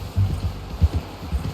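Horse hooves clip-clop in the game Red Dead Redemption 2, a few soft, low thuds at an uneven walking pace under a steady background hum.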